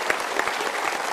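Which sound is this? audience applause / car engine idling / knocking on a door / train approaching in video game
audience applause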